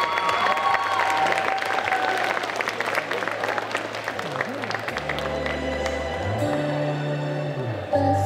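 Audience applause and cheering at a cosplay parade stage show in Mulhouse during a Japan manga event, a steady dense clapping wash from a large crowd filling the space throughout.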